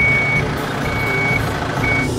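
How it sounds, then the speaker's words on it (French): A small truck engine runs with a steady, loud low rumble and a repeating electronic reversing beep pulsing over it several times, close by and with no talking. "Guette-le le moteur. Il va marcher le petit camion."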